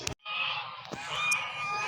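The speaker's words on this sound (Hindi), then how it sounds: "तो ये देखें बतखें" Ducks in a residential housing society give a steady run of harsh, nasal honking quacks, close and fairly loud, overlapping continuously for the whole stretch after a brief opening call.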